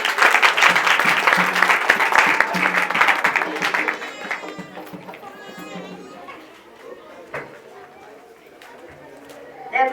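A church congregation bursts into loud, dense applause for about four seconds, then the clapping fades into scattered chatter, children's voices and talking.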